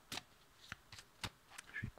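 A tarot deck of archangel cards is shuffled by hand in several quick, soft riffles and taps, faint and close, with short pauses between them.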